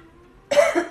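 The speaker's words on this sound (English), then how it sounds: "It's even making me cough." A single sharp cough, close and loud, during a Reiki session, followed by a second shorter cough, after a moment of quiet hum.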